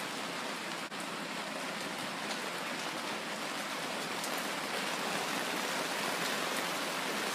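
Rain falling steadily, a dense, even hiss like drops on a hard surface, continuous and moderately quiet with no talking.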